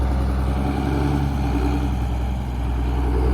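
A large farm tractor, called the 7-8, runs with a steady low engine drone, close and even, with no voices.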